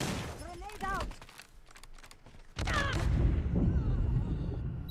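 Call of Duty Mobile combat opens with someone speaking amid scattered gunfire, then a grenade's heavy blast sets off a deep, sustained rumble that fills the rest of the moment.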